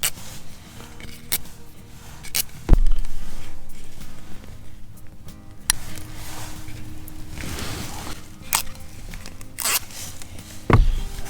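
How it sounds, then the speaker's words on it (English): Tape peeled off near the seat bolt area of a Toyota Tundra, heard as close, sharp ripping and crackling strips with scattered handling noises, no one speaking. "First we're gonna pull off all this tape."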